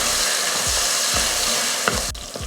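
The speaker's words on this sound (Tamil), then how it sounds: "இப்போ இதை நல்லா பொன்னிறமாக வதக்கிக்கலாம்." Sliced onions and green chillies sautéing in oil for a vegetarian biryani, a dense, loud, continuous sizzle with regular stirring knocks of a spatula against the pan.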